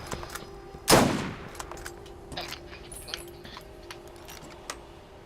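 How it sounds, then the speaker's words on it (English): Auto rifle fire in a multiplayer shooter video game: one loud, sharp burst near the start, followed by scattered faint clicks and distant pops. "That wasn't a shotgun. It was an auto rifle."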